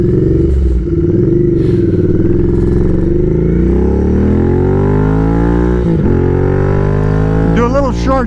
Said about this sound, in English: Let's see what happens when we do some major aggressive downshifting.